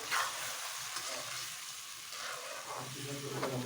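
Hilsa fish curry gravy of potato and aubergine sautéing in a pan, a steady close sizzle and frying hiss with soft stirring scrapes running throughout.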